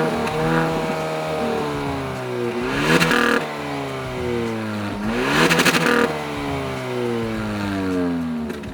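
Exhaust of a 2020 Hyundai Avante N Line with a single twin muffler, revved twice in loud rising and falling sweeps over a steady idle, heard close from behind the car with no talk.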